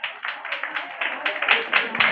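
A church congregation at a Sunday prayer-house service claps for a child, a quick, steady rhythm of group claps at roughly four per second that grows slightly louder and fuller toward the end.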